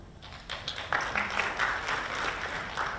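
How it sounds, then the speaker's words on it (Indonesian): Applause from a linguistics conference audience in Indonesia, a moderate, scattered patter of hands heard from a distance at fairly low volume, lasting a few seconds. "Kita berikan tepuk tangan."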